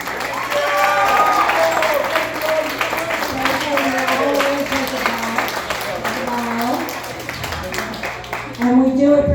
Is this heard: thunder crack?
no